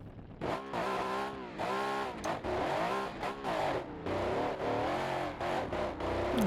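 A 7600-horsepower van engine in a video game revs hard and continuously, its harmonic whine rising and falling as the throttle is feathered, loud and close with brief dips between pulls.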